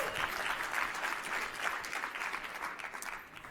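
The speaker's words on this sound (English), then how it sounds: "I just want to give a round of applause to all the panelists and speakers who came up on stage to inspire us today" An audience at a civil and human rights conference applauds panelists and speakers, a steady wash of many hands clapping that fades slightly at the end.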